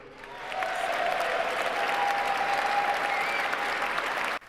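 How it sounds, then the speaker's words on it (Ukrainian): Audience applause at a US presidential inauguration speech, a broad sustained clapping that swells in after a brief start and holds steady and loud before cutting off abruptly. "Аудиторія раз за разом піднімається і аплодує 47-му президенту стоячи."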